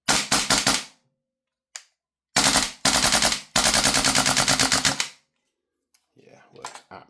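A Tokyo Marui AKX gas airsoft rifle running on propane fires in rapid bursts, loud sharp cracking strings separated by short pauses, with some quieter clicks and handling noise afterward.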